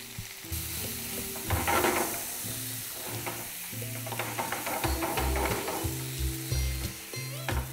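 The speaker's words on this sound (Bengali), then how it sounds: "এবার এই টমেটোটা যতক্ষণ একদম পারফেক্টলি গলে যাচ্ছে ততক্ষণ এটাকে আপনাদের কুক করে নিতে হবে।" Tomatoes with green chilli, Kashmiri chilli powder and salt cooking in a pan, a close, continuous sizzle broken by repeated scraping strokes of a spoon stirring through the mixture.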